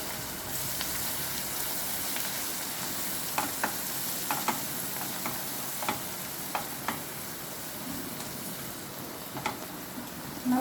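Turmeric, coriander-cumin powder and chili sizzle in hot oil in a pan as fenugreek leaf curry is cooked, a steady soft frying hiss broken by occasional light spoon taps and stirring clicks.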